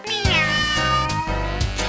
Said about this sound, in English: the cat says